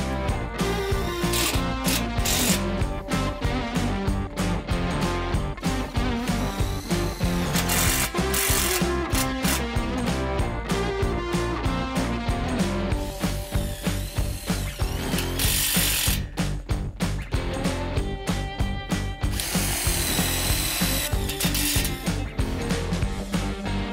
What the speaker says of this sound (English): a impact wrench of some kind. That's what's going to work for all of the screws that come in this bag.